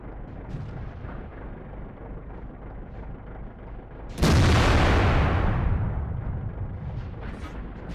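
A tank gun fires once in World of Tanks, the AMX 50 120, a single loud close blast with a long rumbling decay over steady engine and battlefield noise, no talk.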